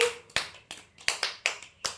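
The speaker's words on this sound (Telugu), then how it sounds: "క్లాప్స్ కొట్టండి అందరూ" Several sharp claps ring out in a loose, uneven rhythm, close and fairly loud, with short gaps between them and no voices.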